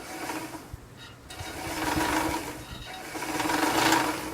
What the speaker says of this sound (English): And the noise is just the mechanism against the bobbin making the noise.